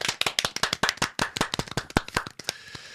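A small group claps in quick, sharp bursts for about three seconds, the hand claps close and brisk before thinning out at the end, with no voices.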